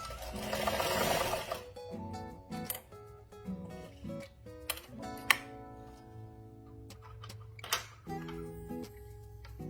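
A sewing machine back stitching a fabric scrunchie whirs in short bursts, stopping and restarting with clicks and ticks between runs, close and fairly quiet with no talking.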